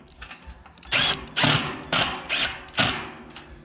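Screws driven into wooden panels of a DIY above-ground garden box, heard as five short bursts of a power driver's buzzing whir with brief pauses between, close and fairly loud, no talking.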